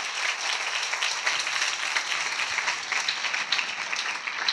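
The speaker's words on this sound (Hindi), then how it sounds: "अरे आपने ताली नहीं बजाई यार" A church congregation breaks into sustained, even applause, a dense wash of many hands clapping that fills the room without pause.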